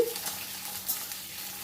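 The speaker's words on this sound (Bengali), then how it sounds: "এর মধ্যে দিয়ে দিলাম পেঁয়াজের পাপড়িগুলো দিয়ে একটু নাড়াচাড়া করে নিচ্ছি গ্যাসের ফ্লেমটা হাইতেই রেখেছি" Onion petals sizzle in hot white oil over a high flame, a steady close hiss broken by soft scrapes of stirring.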